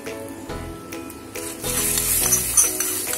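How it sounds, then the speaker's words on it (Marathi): Hot tempering poured over grated coconut in a mixer jar hisses and sizzles loudly after a few light clinks, with no talking. "त्याच्यातच आपण ही फोडणी टाकणार आहोत"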